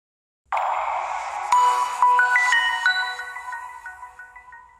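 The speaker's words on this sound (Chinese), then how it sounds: "当年的三星手机在开机的时候都会有当年度的主题音效" Startup theme of a Samsung Galaxy S GT-I9003 phone: a bright, close chiming melody of rising bell-like notes that rings out alone and fades gradually.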